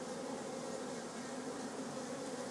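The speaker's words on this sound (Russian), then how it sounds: "Вон трутни летает опять." Drone honeybees fly around a village homestead in June, a faint, steady buzzing hum with no talk over it.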